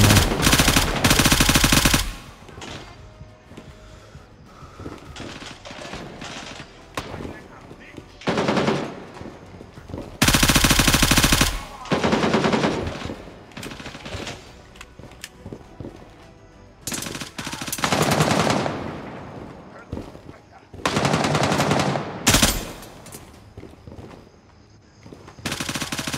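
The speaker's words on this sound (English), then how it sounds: "Shots are coming from everywhere." Gray Zone Warfare video game gunfire: repeated loud bursts of automatic rifle fire erupt close by in clusters separated by quieter stretches of distant shots and ambient noise.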